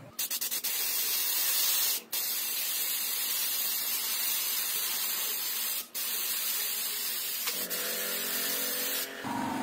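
Spray paint hissing from a can while shading a smoke effect, a loud steady hiss that runs almost without a break, with two brief pauses and a change in tone near the end.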